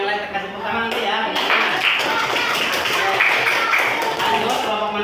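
A classroom group of students claps for their classmates, a steady, fairly loud patter of many hands running through the whole stretch with voices mixed in underneath.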